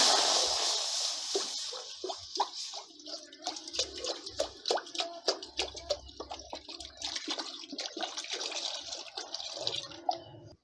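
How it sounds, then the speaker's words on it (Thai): Water is poured into a cooking pot to boil pork bones for a banana stem curry. A steady pour at the start gives way to splashing, dripping and a few light clinks, close by with no talk. "เทน้ำลงไปค่ะ"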